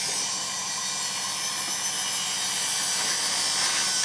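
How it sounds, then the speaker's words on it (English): A Lifesteal hot air gun fitted with a small 3 mm nozzle blows heated air for reworking DFN/QFN electronic parts, producing a constant, close, even rushing whoosh with no pauses. "this is a Lifesteal, which is quite high quality hot air gun"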